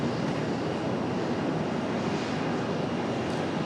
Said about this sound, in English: A321 headed out to the end of center here for departure